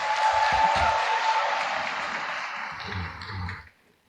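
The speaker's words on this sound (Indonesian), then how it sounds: "tepuk tangan untuk semua yang hadir." Audience applause at a youth gathering in Indonesia with young people from 29 provinces, a broad, steady wash of clapping from a large crowd that holds for about three and a half seconds, with low voices underneath, before cutting off.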